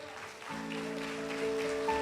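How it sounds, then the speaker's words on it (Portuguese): A church congregation applauds the Lord during a sermon. Steady clapping washes in over sustained organ-like tones and holds for about two seconds at moderate level. "Quem entendeu, diga amém, aplauda ao Senhor."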